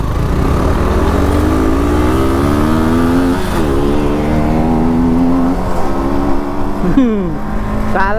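A motorcycle on a village road revs hard again and again, its pitch climbing and dropping, loud and close against wind and road noise.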